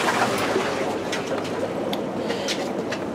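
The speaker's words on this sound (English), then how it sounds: "Pardon the water noise, I'm changing water right now." Continuous rushing of water running during an aquarium water change while a green water culture for baby fish is tended, a steady, fairly loud wash filling the whole stretch with no talk over it.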